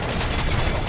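Ship cannons boom in a rapid volley during a naval battle against gunships in Assassin's Creed Freedom Cry, a dense, loud barrage of blasts with heavy low rumble and no gaps.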